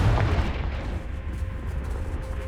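A Confringo spell explosion in Hogwarts Legacy, a heavy low boom at the start that rolls off into a rumbling decay.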